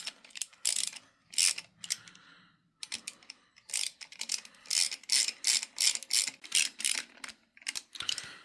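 A ratchet socket wrench clicks in close, repeated bursts while bolts are tightened on a 1994 Jaguar XJS V12, the strokes coming in uneven runs with short pauses between them and no talking.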